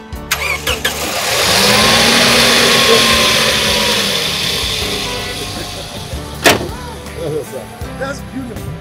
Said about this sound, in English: The engine, start it again.